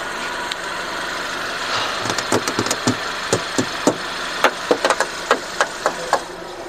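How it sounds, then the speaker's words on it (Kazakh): A 2-litre petrol car engine idling steadily nearby, with a low rumble broken by sharp, irregular ticking knocks that grow more frequent toward the end. "Мынакей 2-литровый бензиновый двигатель"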